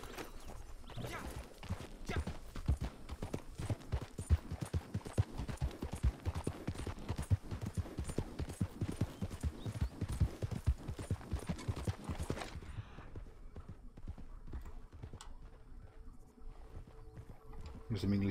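Rapid horse hooves clip-clop steadily for about twelve seconds in the video game Red Dead Redemption 2, then stop, leaving quieter scattered sounds; a voice speaks intermittently over it.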